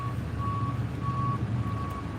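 Slow, evenly spaced reversing beeps, three long tones, come from a truck at the post office next door as it gets ready to unload mail. Under them runs a low idling engine rumble, heard from a moderate distance outdoors.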